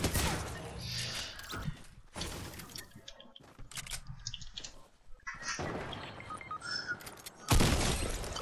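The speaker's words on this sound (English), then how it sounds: "Oh, that's me shooting that." Gunshots from a player's weapon in the battle royale game Fortnite ring out in loud, sharp bursts separated by short gaps, with a final heavy blast near the end.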